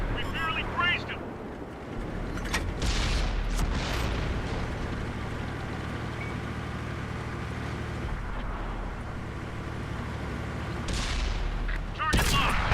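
Tank cannon shots from a Cromwell Knight in World of Tanks console play, several sharp loud booms spread across a continuous low engine rumble, with a voice announcing over the action.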